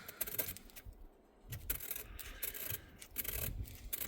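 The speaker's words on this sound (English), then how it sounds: "I'm just filing the part that goes under the locating dowel" A hand file rasps at a metal part beneath a locating dowel, in repeated short strokes with brief pauses, close and fairly quiet, with no voices.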